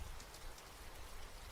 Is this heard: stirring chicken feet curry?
no